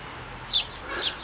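A bird sings from a balcony-lined residential street on the edge of Zurich, two short high chirping phrases heard faintly over quiet background ambience.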